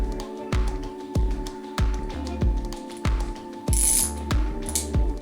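A flex head ratcheting wrench, EZ Red locking or Tekton, clicks in repeated bursts of sharp ratchet pawl ticks, roughly one swing per second, close and clear, with a couple of brighter metallic scrapes near the end.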